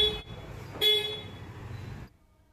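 A Hyundai Verna's horn toots loudly at close range, with a second sharper blast near the one-second mark, then cuts off into near silence.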